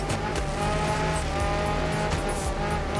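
A rally car in the video game Art of Rally drifts with heavy oversteer, its engine roaring loudly and steadily while tires squeal and skid, continuous and close with no pauses.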